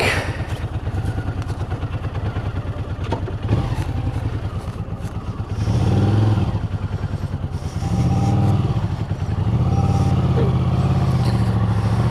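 A motorcycle rides a country road in Derbyshire's Peak District between Ladybower and Chatsworth, its engine a close, steady pulsing rumble throughout, with throttle swells rising midway and toward the end.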